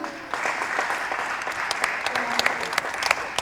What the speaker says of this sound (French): si on peut l'applaudir.